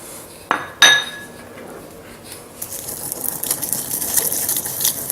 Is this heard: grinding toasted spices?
yes